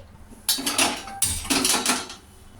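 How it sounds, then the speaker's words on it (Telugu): A kadai pan set down on a kitchen stove, heard as two close metallic clattering bursts of pan against grate, each trailing off into quieter rattles, with no voices. "ఇదే కడాయి స్టవ్ పైన పెట్టి స్టవ్ ఆన్ చేసుకోవాలి"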